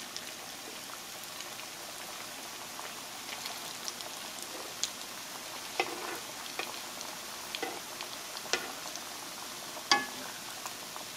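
Hot Cheetos-coated corn dog deep-frying in hot oil, a steady fine crackling bubble with scattered sharper pops, fairly quiet and continuous.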